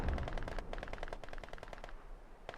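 Rapid bursts of MG42 machine gun fire from the World War II strategy game Company of Heroes 2, a rattling stream of closely spaced shots with short pauses, moderately loud and steady with no talk over it.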